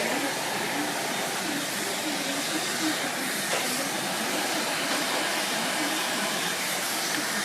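Hair dryer on its highest heat and blow setting gives a steady, even airy hiss and whoosh of moderate loudness throughout, with no breaks or voices.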